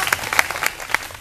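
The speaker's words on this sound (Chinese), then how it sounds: "掌声鼓励一下。" Audience applause at a live music venue, a short burst of clapping from a crowd with sharp individual claps standing out, fairly close and steady throughout.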